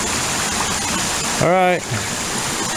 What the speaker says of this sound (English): There's a drop off over there where the waterfalls go over.